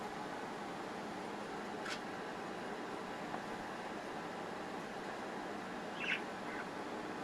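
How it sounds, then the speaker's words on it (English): Steady, faint air conditioning hum fills the whole stretch, with a couple of brief bird chirps breaking through from nearby. "sorry about all the air conditioning noise"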